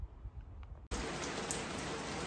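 Rain falls on a roof under repair, where metal sheeting is being replaced with plywood, a quiet moment breaking suddenly into a loud, dense, steady hiss of drops that continues without pause.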